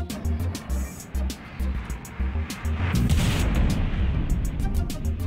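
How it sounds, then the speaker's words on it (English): Four size four missiles striking a ship in a naval video game, a run of heavy booming impacts with a rhythmic low thudding that builds into a loud continuous rumble, close and dominant, with no talking. "Four size four missiles."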